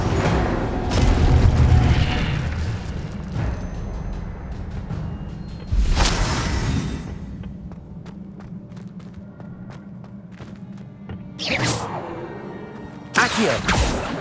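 Spell effects from the video game Hogwarts Legacy on PS5, including Incendio, with booming bursts and whooshing blasts separated by quieter stretches of rumbling game ambience and faint footsteps, loud and close.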